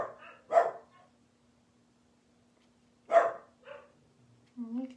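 A dog lets out two loud, sharp barks a few seconds apart, followed by a softer yelp at the end, all over a faint steady hum in an otherwise quiet room.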